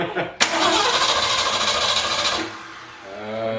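A Ford 351 V8 cranks over with a sharp burst of starter and engine noise that holds loud for about two seconds, then fades to a low rumble with a faint tonal hum.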